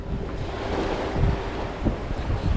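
Strong wind buffets the microphone by the sea while waves wash and surge nearby, a continuous rough roar with gusty swells and no talking.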